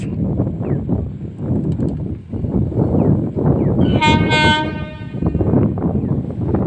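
The Teesta Torsa Express passenger train rumbles steadily into New Cooch Behar station as its loud horn sounds partway through, rolling on with heavy, clattering noise throughout.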